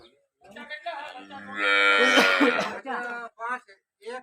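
A cow lets out a long, loud moo close by at a cattle sale, with people talking briefly before and after it.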